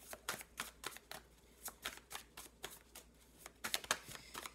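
A deck of tarot cards being shuffled and cut by hand, giving bursts of crisp riffling and flicking in an irregular rhythm, close and fairly quiet, with no talking.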